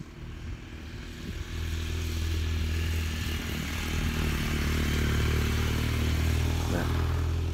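A police motorcycle engine drones and grows gradually louder as it approaches and passes, over a low rumbling background, near Mission Bay, California.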